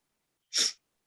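A single sharp sneeze bursts out of silence, brief and close, with nothing else around it.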